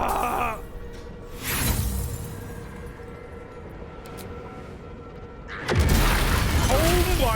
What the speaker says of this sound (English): hear an explosion, the earth shuddering beneath your feet in response